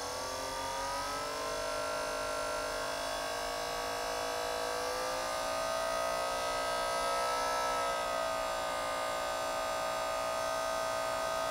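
An electric motor running under load as its voltage is raised, giving a sustained high whine with stacked tones that slide up and dip slightly midway. Fairly quiet, steady throughout, with no voice.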